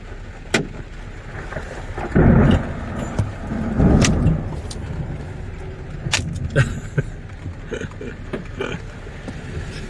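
A hailstorm with rain and thunder in Saudi Arabia: a constant wash of rain and wind, sharp scattered hail impacts, and low rumbling surges around two and four seconds.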